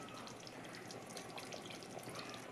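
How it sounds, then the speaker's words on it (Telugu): Water poured into a simmering chicken curry with drumsticks, giving a faint, continuous splashing pour that runs unbroken for a couple of seconds. "నేనైతే కొద్దిగా వాటర్ వేస్తున్నాను."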